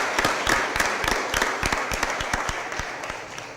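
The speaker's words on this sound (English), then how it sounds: "let's give a round of applause to Alderman Ogilvie" Applause at a city Board of Aldermen meeting for an alderman who has just become a father, heard as steady, moderately close clapping from a modest room crowd that holds firm and then slowly eases off.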